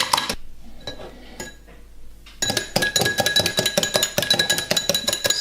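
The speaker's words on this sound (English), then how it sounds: "the egg is well beat, like is whisked very well" Egg being whisked in a bowl for pancake batter made without baking powder, heard as a steady run of quick, close metallic clinks and taps against the bowl, sparse at first, then dense and rhythmic.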